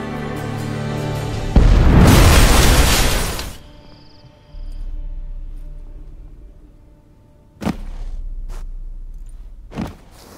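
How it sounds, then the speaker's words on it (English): A loud explosion in The Witcher 3: Hearts of Stone bursts out as a roaring blast that fades into low rumbling, followed by a couple of sharp thuds. "That explosion gets us in the vault."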